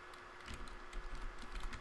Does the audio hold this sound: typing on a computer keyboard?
yes